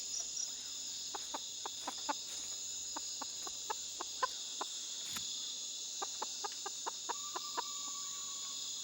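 Chickens cluck in short, evenly spaced bursts at an Amazon rainforest edge, close and moderately loud over a constant high drone of insects.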